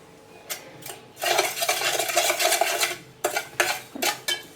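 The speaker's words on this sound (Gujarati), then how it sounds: "દહીંમાં નમક અને ખાંડ ઉમેરીને હવે આપણે હલાવી લેવાનું છે." Spoon stirring yogurt raita with salt and sugar in a bowl, giving close wet scraping swishes, a sustained stretch of stirring followed by several short separate strokes.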